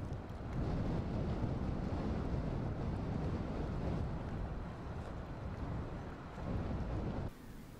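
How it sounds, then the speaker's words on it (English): Strong westerly wind sweeps across the dry Patagonian steppe east of the Andes, a loud continuous roaring rush with buffeting gusts that dips briefly near the end. "the subtropical westerlies turn into strong winds east of the mountains."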